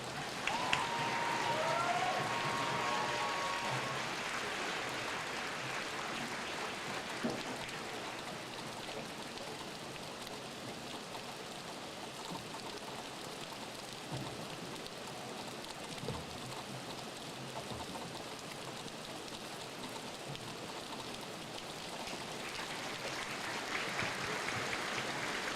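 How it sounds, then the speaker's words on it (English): Sustained applause from a large crowd honoring U.S. Army retirees and their families at a Fort Jackson basic combat training graduation and retirement review, a steady broadband patter lasting throughout with a brief voice near the start. "Please join me in a round of applause for our retirees and their families"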